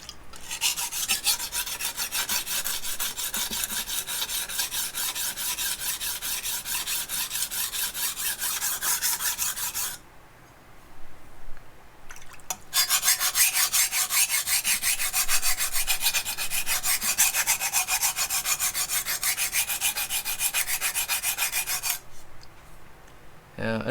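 A Shun Classic chef knife edge is reground on a sharpening stone, producing a loud, close, rapid rasping of back-and-forth strokes that pauses for a couple of seconds before resuming, with no talk.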